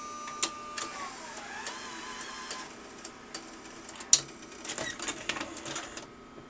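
A Sony DVW-A500P Digital Betacam recorder ejects a tape with faint mechanical whirring, soft clicks and a sharp clunk partway through, all fairly quiet against a low machine hum.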